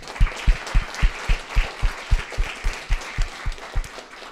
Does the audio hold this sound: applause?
yes